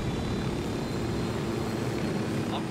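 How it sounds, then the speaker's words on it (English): Helicopter in the video game Ghost Recon Wildlands, a steady, moderately loud rotor and engine drone that holds throughout without voices. "I'm taking the helicopter."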